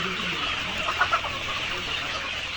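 Layer chickens on a poultry farm in Kusthia, a few soft clucks rising briefly over a steady background hiss, with no talk.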